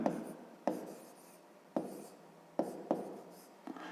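Pen writing a geometry solution by hand on paper for a fifth-grade math exercise: close, soft scratchy strokes in short bursts separated by sharp taps as the pen touches down, no speech.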